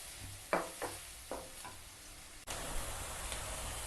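Soft sizzling of onions and green chilies frying in a pan, with a few stirring scrapes and clicks, growing louder after a sudden burst halfway.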